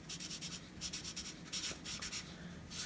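A pen writing close by, a steady run of short scratchy strokes in quick bursts with brief pauses, and no voices.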